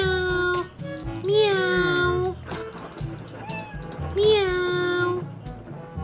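A frightened house cat gives two long, drawn-out meows a few seconds apart, loud and close, with a voice chattering around and between them.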